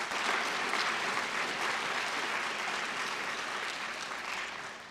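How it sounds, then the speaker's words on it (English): An audience at a Teacher of the Year event gives the finalists a sustained round of applause, many hands clapping in a dense, even wash that slowly tapers off. "let's have a round of applause for all the finalists"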